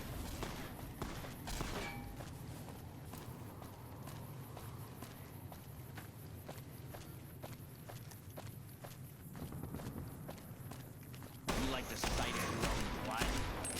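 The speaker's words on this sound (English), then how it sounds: "Oh, they're shooting across from there." Enemy gunfire in Fallout: New Vegas, heard as a long run of sharp rapid shots over steady game noise, fairly close, with a louder burst of activity near the end.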